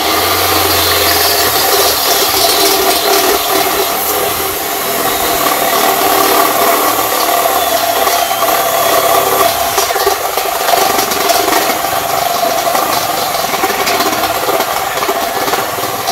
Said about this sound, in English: And for that I'll be using this step drill.